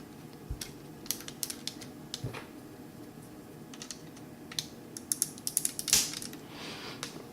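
A plastic Transformers MP-11 Thundercracker toy part is pressed into its ball joint socket, making soft scattered plastic clicks and small handling noises close by, with a sharper snap near the end, and no talking.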